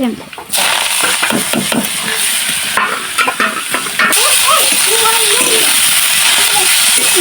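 Cumin seeds and chillies sizzle loudly as they fry in a pan, a dense, close crackling hiss with stirring scrapes and a voice talking over it.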